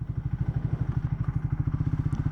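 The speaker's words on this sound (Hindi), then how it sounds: "रॉयल एनफील्ड बाइक्स का stock exhaust doesn't sound great" A Royal Enfield motorcycle with its stock exhaust idles nearby in a steady, even thumping beat of low pulses, about a dozen per second, with no voices over it.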